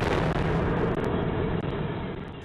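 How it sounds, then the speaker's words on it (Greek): A bomb hidden in a backpack hung on a railing outside a bank in Athens explodes, a loud, dense roaring blast filling the whole stretch with heavy rumbling noise and no talk. "Ο μηχανισμός που βρίσκεται μέσα σε σακίδιο, το οποίο είναι κρεμασμένο σε ένα κάγκελο έξω από την τράπεζα,"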